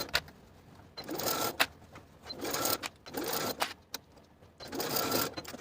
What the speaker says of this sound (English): Sew your cuffs in place with a 3/8 inch seam allowance